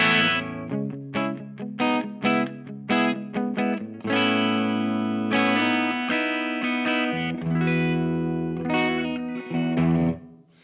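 Les Paul electric guitar played clean through an Anarchy Audio GIRT pedal into a Mini 20 head and Torpedo Captor X, picked single notes and ringing chords, bright and close with no voices.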